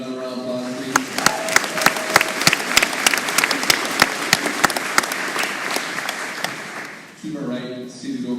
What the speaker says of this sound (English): Give him another round of applause, please.